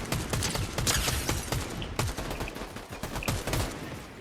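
Rapid video-game gunfire, dense bursts of loud automatic shots rattling over a busy background of in-game noise, continuous for several seconds without talk.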